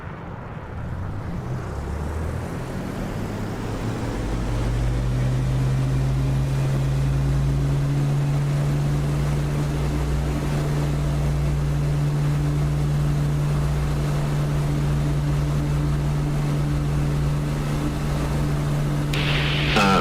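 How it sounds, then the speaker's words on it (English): Jet aircraft engine in the DCS flight simulator throttling up to full power, a steady loud roar with a sustained low drone that swells early and then holds, ending with a brief sharp noise. "I'm throttling up."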